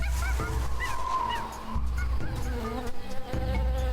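Bees buzz in a noisy jungle in Tales of Monkey Island, a droning hum layered with bird calls and other animal sounds, steady and fairly loud, with no talking.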